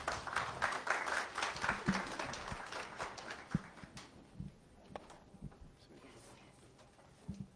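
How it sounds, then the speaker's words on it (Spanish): A seminar audience at an AECID project closing event in Peru applauds the vice minister for women: dense, steady clapping for about four seconds that then thins out into scattered claps and room noise. "Un fuerte aplauso para ella, por favor."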